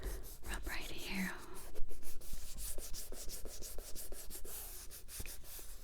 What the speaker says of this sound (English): we just very gently rub right here